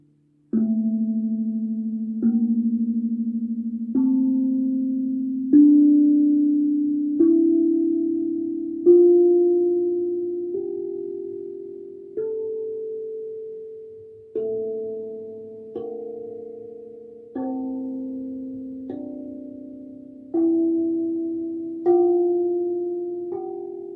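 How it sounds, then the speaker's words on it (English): A Meinl Octave Tongue Drum tuned to D Kurd, played without the plug and struck one note at a time through its whole scale, each warm metallic tone ringing out and decaying before the next, with no talking. "you can hear how it sounds without the plug, and I go again through all the notes."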